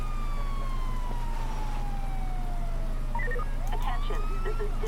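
A wailing emergency vehicle siren in the LSPDFR mod for GTA V, with a long falling sweep and then a rising yelp, loud and continuous over a steady engine hum.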